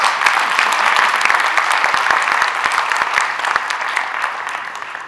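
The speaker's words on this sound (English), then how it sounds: "ma'am deserves a special round of applause" Sustained applause from a concert audience fills the hall, dense and steady with sharp individual claps popping through, no voices over it.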